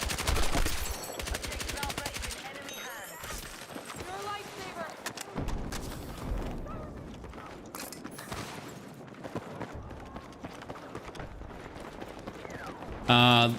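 Rapid bursts of TR7 gunfire in Battlefield 6 crackle through busy game noise, with dense automatic volleys early and scattered shots and impacts later, all under frequent talking.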